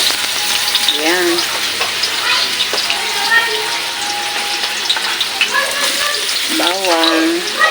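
Garlic and onion sautéing in cooking oil for chopsuey, a continuous close sizzle and crackle with a voice talking over it at times.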